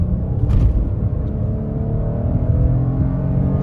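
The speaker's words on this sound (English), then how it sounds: "Good acceleration. You can hear the engine." An SUV engine (Toyota Highlander or Nissan Pathfinder) revs and accelerates steadily, a continuous loud droning roar with road noise and no talking.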